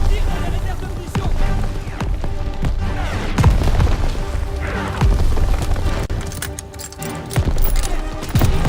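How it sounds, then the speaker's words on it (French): Ammunition reserves blowing up in Call of Duty WWII, a series of loud booming blasts and gunfire-like bursts over dense combat noise, with voices calling out throughout. "Fais sauter les réserves de munitions!"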